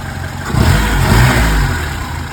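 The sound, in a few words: car engine revving with the turbocharger blowing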